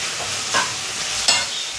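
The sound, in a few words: sautéing food in a pan until dry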